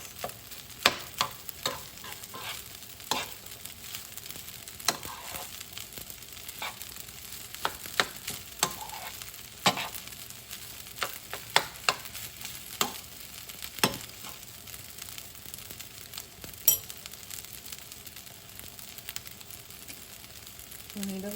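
Rice and shrimps are stir-fried in a pan, with a soft steady sizzle under repeated sharp scrapes and clinks of a utensil against the pan, fairly close and irregular throughout.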